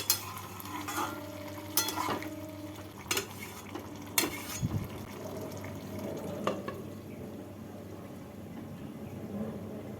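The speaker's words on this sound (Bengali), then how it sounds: "জল দিয়ে নাড়াচাড়া করে ঢাকা দিয়ে দু মিনিট রেখে দেব" Ash gourd and shrimp curry stirred in a pot after water goes in, with scattered scraping clinks of a spoon against metal over a steady low simmer.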